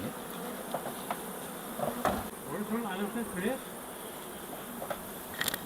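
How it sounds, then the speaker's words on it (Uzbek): Honeybees buzz around hives at an apiary near Samarkand during May honey harvesting, a dense steady droning hum with individual bees passing close, and a few faint knocks mixed in. "arilari mana shu yerda to'planib turibdi"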